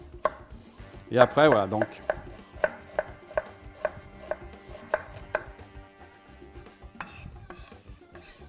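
A knife cuts red onion into strips on a cutting board, about a dozen evenly spaced crisp taps, with brief rustling and a few quiet spoken words.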